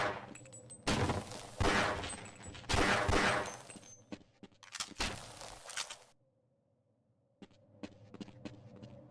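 Gunfire in the Half-Life video game: loud rapid bursts of shots and impacts in several volleys, then a quiet stretch and a few fainter pops at the end, no voices.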